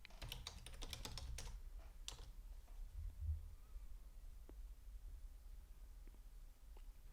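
Fingers type a short burst of quick keystrokes on a computer keyboard, entering a plugin name into a search box, then fall quiet with a couple of faint isolated clicks in a quiet room.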